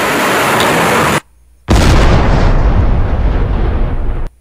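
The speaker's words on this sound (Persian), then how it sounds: "شلیک موشک های بالستیک ساحل به دریا توان واکنش را از دشمن می گیرد" Ballistic missiles fire from the coast out to sea during a military exercise, giving a loud, roaring blast that cuts off briefly and then returns as a sustained, rumbling rush.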